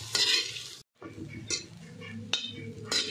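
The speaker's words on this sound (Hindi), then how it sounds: "प्याज और नारियल कलर चेंज होने तक अच्छे से फ्राई करेंगे।" Sliced onion and grated coconut frying in coconut oil for a crab masala curry, a steady close sizzle broken by a brief pause and several scraping stirs of a utensil against the pan.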